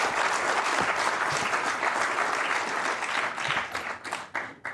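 Warm audience applause for a conference session chair and the distinguished speakers on investment arbitration: a dense, steady wash of many hands clapping at once, thinning into scattered claps near the end.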